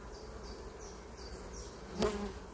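A honeybee colony in a hive box buzzing as it is inspected, a soft close drone with rising and falling individual bee passes and one brief louder thump near the end.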